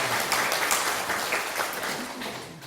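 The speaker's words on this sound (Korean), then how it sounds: "하나님 앞에 박수를 올려드리겠습니다" A church congregation at a Sunday morning service gives continuous applause, a steady wash of clapping at moderate loudness that holds throughout without voices.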